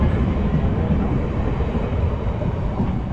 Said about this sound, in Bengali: ছাড়লো আমাদের ট্রেন।